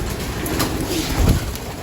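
Pigeons coo in an indoor loft, a soft low murmur rising briefly near the end, with faint bird noise and a steady background hum throughout.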